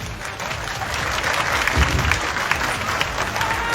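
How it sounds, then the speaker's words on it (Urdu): Audience applause at a political gathering of Dr Farooq Sattar, a dense, loud wash of clapping from a crowd that builds and holds steady throughout. "تالیاں بھی بج رہی ہیں"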